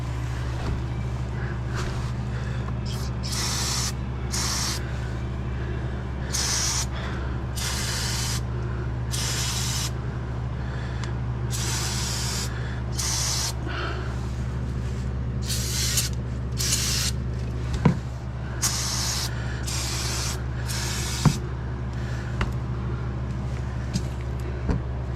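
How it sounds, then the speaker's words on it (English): Brake cleaner hisses from an aerosol can in repeated bursts onto the oil filter area of a truck, each spray a few seconds long over a steady low engine-like hum. "I'm using a brake cleaner to clean this up."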